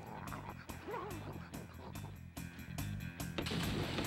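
A dog in the Jimmy Neutron Jet Fusion video game barks and whimpers in short yips, with game effects and music around it.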